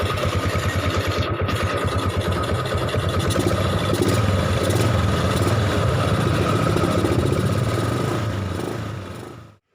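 A Yamaha MX 135 motorcycle engine with its air filter removed runs close by, revving and idling with a steady, throaty drone that holds for about nine seconds before cutting off.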